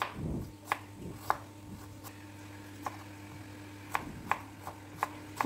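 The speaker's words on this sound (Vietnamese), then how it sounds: "Cà gót thì mình sẽ xới cho thật mỏng. Rồi mình sẽ xắt sợi nhỏ lại." A kitchen knife slices a carrot into thin strips on a cutting board, giving sharp, irregular taps spaced about half a second apart over a low steady hum, quiet and close.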